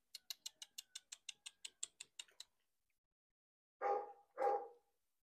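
A nine-kilogram Rottweiler puppy gives a quick run of about a dozen sharp, evenly spaced barks, then after a pause two louder, deeper barks close by.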